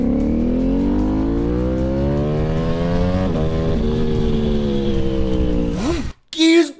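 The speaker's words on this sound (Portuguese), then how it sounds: "Olha como que é a moto forte, cara. Se eu acelerar, empina, ó." A BMW S1000RR motorcycle revving hard in first gear, its engine note climbing steadily and loud up close, then cutting off abruptly before a short burst of noise at the end.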